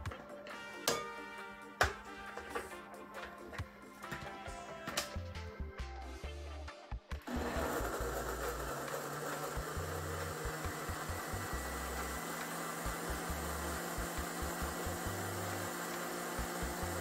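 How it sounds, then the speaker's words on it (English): Carrots and water sit in a blender while a few clicks and clatters sound, then the motor starts and whirs at a loud, constant pitch, grinding steadily for about ten seconds. "So we are gonna blend this now. We are gonna blend the carrot."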